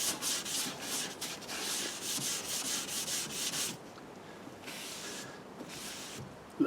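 A Brillo pad scrubs an arm piece with steady, fast back-and-forth rubbing strokes, close and moderately quiet, then a softer stretch of lighter strokes near the end.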